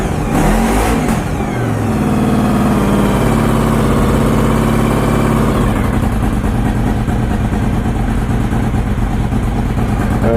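A Honda VFR motorcycle engine, newly fitted with a battery, cranks over and catches, then revs and settles into a loud, close, steady running drone with rising and falling pitch.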